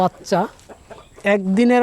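Tiger breed chickens cluck up close in a few loud, brief calls with short pauses between them.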